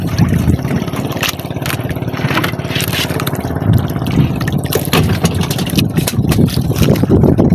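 A small fishing boat's engine starts and runs at sea in the rain. A loud, close, steady mechanical drone is layered with broad hissing water and rain noise.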